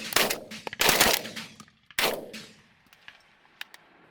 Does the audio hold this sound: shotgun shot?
yes